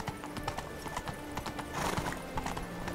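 Hooves of Roach, Geralt's horse in The Witcher 3: Blood and Wine, clip-clopping at a steady galloping rhythm. A soft snort or whinny blends in with the continuous pounding.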